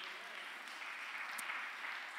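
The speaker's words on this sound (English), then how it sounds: "Please clap for the Lord." A church congregation claps together at a lunch-hour service, producing a steady, dense wash of applause that holds evenly throughout without breaks, moderately distant and with no talk over it.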